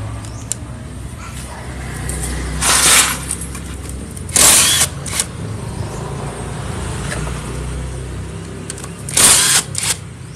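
Tool work on a Honda Beat scooter, unbolting the final drive oil: a steady low mechanical hum runs throughout, broken by a few short, bright bursts of whirring or clattering close by.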